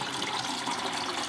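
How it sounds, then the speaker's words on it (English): Water drains from a water softener's drain line into a bucket, a steady close rushing splash that runs unbroken for the whole moment with no voices over it. "pull it up and drain it down into this bucket. So as you can see, there's a fair amount of water that's coming out of there"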